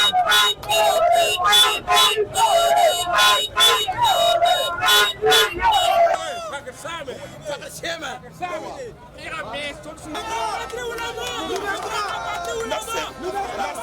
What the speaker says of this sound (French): La foule est hystérique.